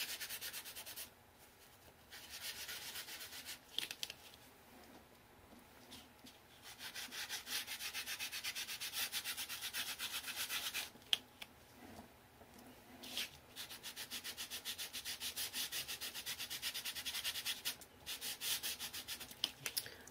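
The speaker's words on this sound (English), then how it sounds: "I'm just rubbing some onto the baby wipe, and just going to start rubbing it in" Paint is rubbed into furniture with a baby wipe, Silks paint mentioned alongside, giving close, steady scrubbing strokes in repeated bursts with short pauses between them and no talking.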